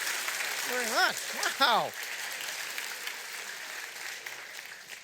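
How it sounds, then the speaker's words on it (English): Applause from a podcast audience for a guest named Sasha, a steady wash of clapping running under and after brief talk and an exclaimed reaction. "Round of applause for Sasha."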